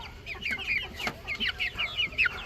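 A young Brazilian rooster, a stag, clucks in quick, short, high calls that come in rapid bursts nearby over faint background noise.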